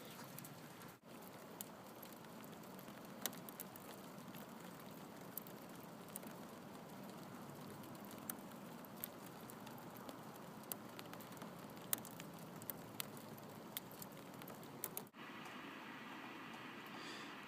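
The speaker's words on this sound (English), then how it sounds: "You can hear the sleet pellets starting to" Steady patter of icy pellets ticking against a car body, with scattered sharper clicks over a constant wash of precipitation noise; no voices.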